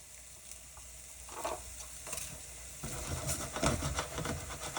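Eggs for an omelet frying in a pan with cheese added, a steady soft sizzle and patter with occasional scraping stirs, growing a little busier toward the end, with no talking.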